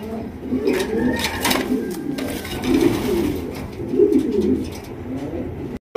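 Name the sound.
Andalusian pigeons cooing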